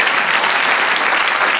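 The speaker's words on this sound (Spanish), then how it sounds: "Del otro aplauso al Señor." A church congregation applauding the Lord during a sermon, giving a brief, loud, unbroken burst of clapping from many people that stays even throughout.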